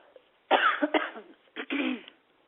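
Two bursts of coughing, close and fairly loud, the first a quick double cough and the second a short harsh one, with quiet around them.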